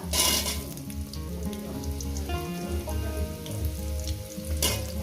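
Potatoes fry in a hot pan for a poppy-seed vegetable curry, a dense, loud crackling sizzle that runs throughout with brighter spitting bursts at the start and near the end.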